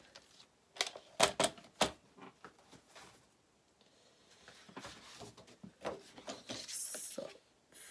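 Paper pieces being cut for a handmade mini album, with several sharp snipping and rustling bursts early on, then softer scraping and handling noises at close range.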